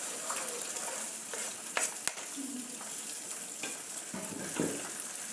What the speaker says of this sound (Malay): So sekarang aku akan masukkan nanas dalam tin.